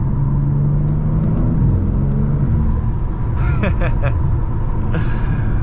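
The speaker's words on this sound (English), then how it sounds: "You can hear the turbos spooling up as well when you're going for it." A 2021 BMW G80 M3 Competition engine rumbles and revs up close while driving, with a rising whine of turbos spooling, then a few sharp hissing bursts toward the end.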